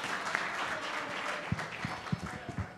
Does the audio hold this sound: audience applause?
yes